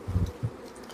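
Honeybees buzz as a frame from a large colony is shaken off, a brief, soft low hum that swells twice in under a second.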